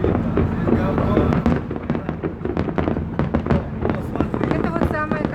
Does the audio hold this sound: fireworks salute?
yes